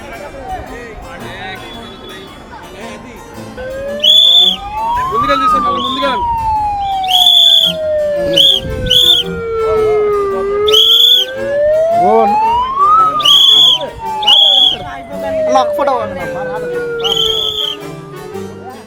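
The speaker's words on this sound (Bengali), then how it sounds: "হুইসেল বেজে গেছে এবার নামার পালা" Short, sharp whistle blasts at the Kailasagiri ropeway in Vizag repeat in pairs over a wailing tone that rises and falls, with crowd noise and voices throughout.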